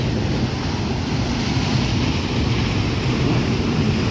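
High-pressure water rushes steadily through a village in Punjab, a loud, continuous broadband roar with no breaks, close to the microphone and without voices.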